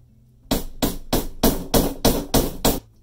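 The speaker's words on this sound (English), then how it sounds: "And now I need a hammer." Eight sharp hammer strikes land in a quick, even rhythm, close and loud, after a brief quiet start.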